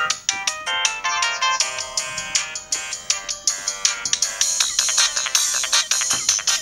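A home-made ringtone tune built with the Music DJ composer on a Sony Ericsson V600i phone: bright, synthetic electronic notes in a quick, looping pattern, played loud and clear with no voices.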